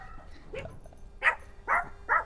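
Dogs bark at home, apparently reacting to the mail arriving: a brief faint sound first, then three clear, fairly close barks in quick succession with short gaps.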